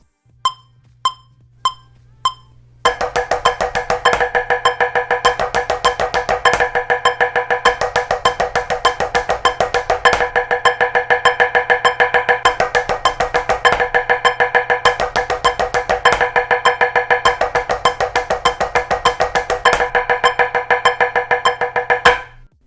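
Sharp, evenly spaced bass drum strokes, a few sparse hits and then a dense, steady rapid split-singles pattern of alternating strokes over a low sustained hum, loud and close.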